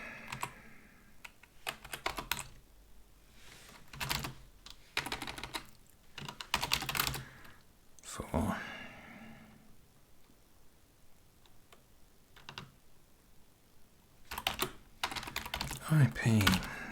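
Computer keyboard typing comes in scattered bursts of quick clicks across the stretch, close and clear, alternating with someone talking.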